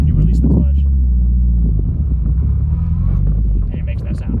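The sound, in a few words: Subaru WRX car engine in reverse gear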